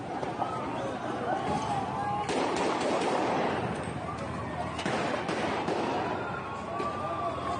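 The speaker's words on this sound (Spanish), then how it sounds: "Están disparando." Several sharp gunshot cracks ring out amid a noisy outdoor scene near police, with people shouting and running throughout.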